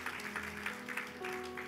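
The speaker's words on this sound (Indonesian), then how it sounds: "Tepuk tangan yang meriah bagi Tuhan." A church congregation claps at a worship night, a soft, uneven patter of hands with a sustained instrumental tone lingering beneath.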